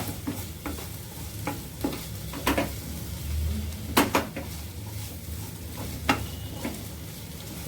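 Garlicky fenugreek leaves with chilli cooking uncovered in a pan, stirred with a spoon that scrapes and clinks against the metal in irregular strokes over a steady low sizzle.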